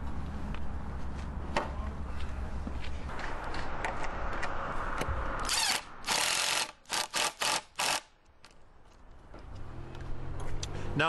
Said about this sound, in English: We're going to install some lag bolts and bolt it into place.